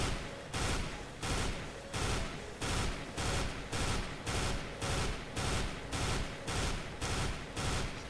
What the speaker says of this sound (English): If your gun's on burst fire mode, it'll shoot three bullets.